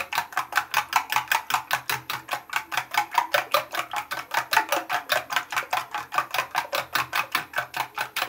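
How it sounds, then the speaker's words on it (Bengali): Eggs being beaten with salt in a bowl for egg momos, a fast steady run of sharp clicking whisk strokes, close and even, continuing without break and with no talking. "একসাথে ডিমটি ফেটে নেব। ভালোভাবে ফেটিয়ে নিতে হবে।"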